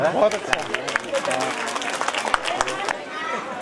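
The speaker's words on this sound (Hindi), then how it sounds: "तालियों की गड़गड़ाहट होनी चाहिए" Applause from a crowd gathered at a Bhagwat Katha religious discourse, a dense patter of many hands clapping at moderate level with some uneven bursts, lasting several seconds.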